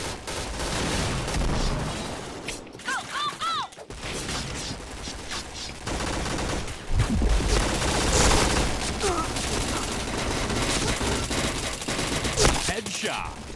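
Gunfire rattles through a Point Blank match, with rapid bursts and single shots over game effects, and voices talk over it in places.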